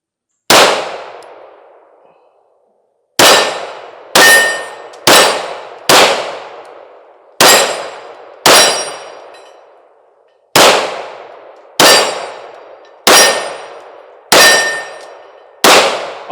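Springfield Armory Prodigy Comp pistol fired at steel targets, sharp loud shots each followed by a ringing metallic clang, spaced irregularly, some in quick pairs, with silence between.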